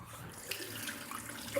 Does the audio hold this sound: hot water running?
yes